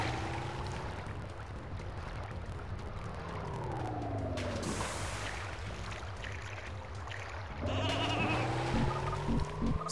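Sheep bleat repeatedly in the N64 game Space Station Silicon Valley, wavering cries rising and falling over a busy game soundtrack and engine-like hum, steady and fairly loud throughout.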